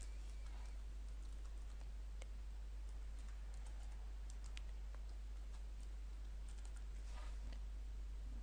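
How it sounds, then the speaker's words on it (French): Rapid, light clicking of keys as a password is entered on a computer keyboard, close and quiet over a low steady hum, with irregular bursts of keystrokes throughout. "nous allons cliquer dessus et nous allons saisir le mot de passe"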